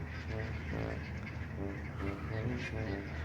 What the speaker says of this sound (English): all the birds are coming in from all over the lake to join Boyd